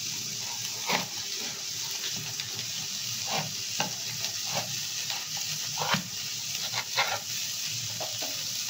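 Shrimp heads frying in butter in a pan, a steady soft sizzle with intermittent scraping and stirring clatters scattered throughout.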